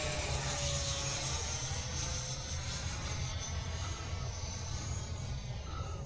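A Freewing F-16 model jet with a 90mm ducted fan and AS3X+ flies at Fritz Field, giving a steady, airy turbine-like whine over a constant low rumble that holds without break.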